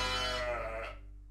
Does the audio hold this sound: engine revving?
no